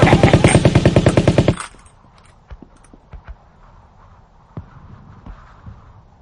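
Rapid burst of heavy machine-gun fire in a radio play, loud and close for about a second and a half, then a quiet stretch with scattered faint clicks and knocks.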